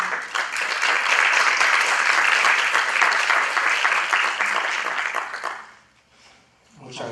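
An audience gives strong, steady applause to welcome a law professor at a lecture on criminal cassation, held by Lima's Superior Court of Justice. The clapping lasts several seconds, then fades out to near silence.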